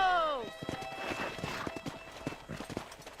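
Horse hooves clip-clop in a quick irregular rhythm on the ground in the Red Dead Redemption video game, following a neigh at the start, fairly close and moderately loud, with some voices mixed in.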